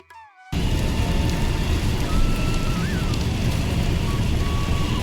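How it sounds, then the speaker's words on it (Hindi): Rain begins abruptly as a steady, dense hiss, loud and close, continuing without pause, outside a temple on the Jaipur to Sanwariya Seth route. "It's raining."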